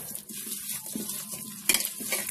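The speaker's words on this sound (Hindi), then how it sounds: "तो मैं इसे हाथ से मिला लेती हूँ।" Vegetable cutlet mixture worked by hand in a bowl, soft squishing and scraping with light clinks against the bowl, quiet and close, with a sharper knock near the end.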